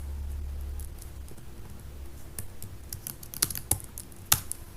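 Keys clatter in an irregular burst as code is typed on a computer keyboard for a Python arithmetic exercise, soft at first and then sharper, closer taps near the end, with no talking.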